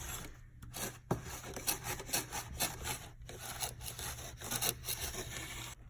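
A white polishing pad rubs along model railway track in steady back-and-forth scrubbing strokes, a close, dry scraping with no voices.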